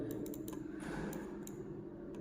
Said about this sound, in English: I'll just double click on it